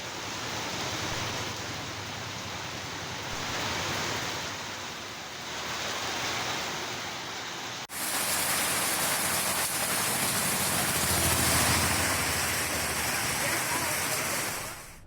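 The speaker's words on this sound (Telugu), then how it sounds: "ఏజెన్సీ ప్రాంతాల్లో కారుమబ్బులు ఏర్పడి మోస్తరు వర్షం కురియడంతో" Moderate rain falling steadily in a hilly agency area under dark clouds, a continuous broadband hiss that grows noticeably louder and denser partway through, with no voices.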